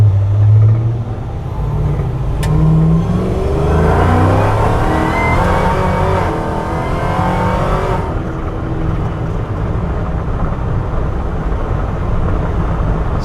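A 1970 Chevrolet C20 pickup with a swapped LT4 V8 pulls hard at three-quarter throttle, its loud engine roar rising with gear shifts heard from inside the cab, then easing off to a steady cruising drone.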